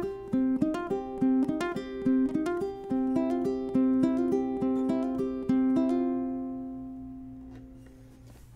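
Ukulele picks a theme intro, a repeating plucked melodic figure over ringing strings, close and clear before the last notes ring out and fade.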